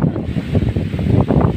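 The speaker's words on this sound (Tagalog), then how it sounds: "Hangin kayo grabe kay hangin kayo" Strong wind buffets a camera microphone outdoors, a continuous low rumbling roar with gusty surges throughout, no voices present.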